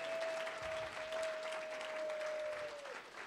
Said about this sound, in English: If we could just give him a quick round of applause